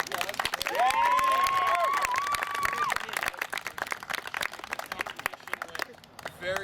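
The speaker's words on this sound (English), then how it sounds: "just give him a round of applause" An audience claps and cheers for a competition host at the close of the event, a loud burst of applause and whoops with a high cheering voice riding over it early, then thinning into scattered claps as talk starts.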